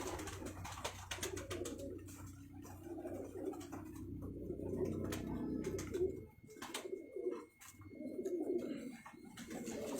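Several red-eyed pigeons coo close by in soft, repeated throaty rolls that overlap and pause, with a faint steady hum underneath and no talking.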